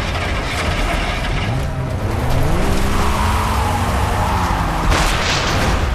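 Car driving in the video game Far Cry 3: a loud engine revving with rising and shifting tones and tire skids, a close continuous roar with a sharp screech near the end.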